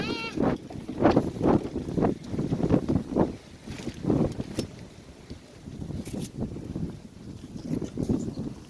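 Gusty wind buffets the microphone in uneven low rumbling bursts, loud and close, over a breezy outdoor background.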